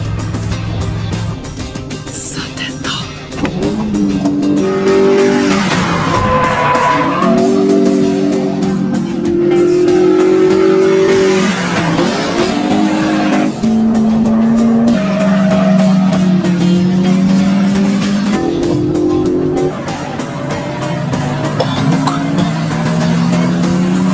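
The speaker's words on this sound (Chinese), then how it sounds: "晚上，拓海一如既往开车去送豆腐" Toyota AE86 driving fast on a mountain road at night, engine note climbing and shifting through gears with screeching tire squeals through corners, loud and continuous under a music track.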